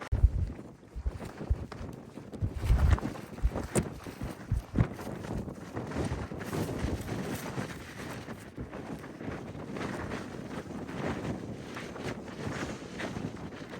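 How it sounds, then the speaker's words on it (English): Wind sweeps across the Crib Goch ridge at night near a camp, gusty rumbling buffets strong at first then settling into a steadier, moderate rush, with no voices. "The wind makes it quite cold"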